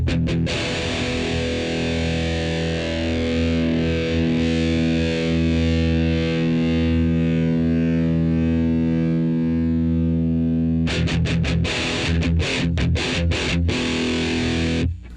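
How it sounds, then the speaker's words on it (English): Heavily distorted electric guitar through a distortion pedal rings out in long sustained chords with a steady low hum from the pedal underneath, loud and continuous, with a few choppy strums near the end. "This one is actually distortion, so we get some hum from it."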